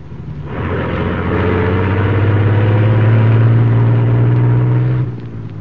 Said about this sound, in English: As the huge truck rumbled out from the alley